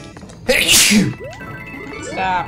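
A single loud, close sneeze bursts out sharply from a person during a casual gaming chat, followed by brief speech.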